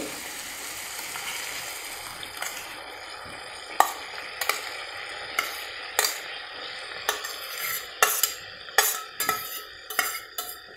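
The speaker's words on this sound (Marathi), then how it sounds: "आता ही शिजलेली भाजी घालते" Cooked banana flower vegetable goes into a pan of black peas and masala, then a spatula stirs it: scattered clinks and scrapes grow busier and more rhythmic over a soft background sizzle. No voices.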